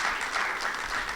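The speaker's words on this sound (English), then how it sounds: "Let's clap." Applause from the audience at a gaming industry panel session at Lagos Games Week, a brief, dense and even burst of many hands clapping together without a pause.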